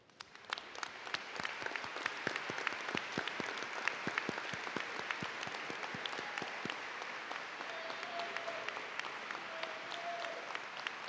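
Audience at a high school commencement applauding cum laude graduates as they stand, a sustained, fairly distant crowd clapping with individual sharp claps standing out, continuing evenly for several seconds.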